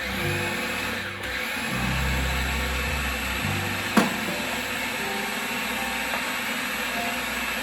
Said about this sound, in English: And now I'm just going to continue to blend